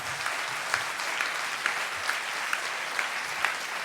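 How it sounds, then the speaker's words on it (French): Steady, dense applause from the audience at the closing ceremony of the 36th Mont-Blanc comedy festival, heard as continuous even clapping at moderate loudness with no speech over it. "Ne gaspillez pas vos applaudissements, il n'est pas là."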